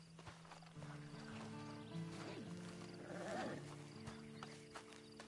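Horse neighing with clip-clopping hooves in the Red Dead Redemption Online video game. A rising whinny stands out near the middle, with steady hoof steps over sustained background music tones.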